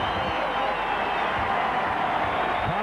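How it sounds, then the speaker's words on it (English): A Wigan rugby league crowd roars in a dense, steady wash of noise that fills the stadium, loud and continuous with no break. "And there's the great roar"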